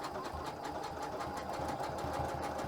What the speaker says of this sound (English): And then you start sewing.